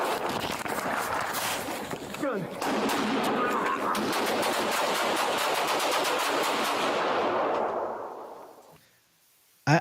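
A long, rapid barrage of gunfire, shots cracking in quick succession for several seconds before fading out, followed by one final sharp bang.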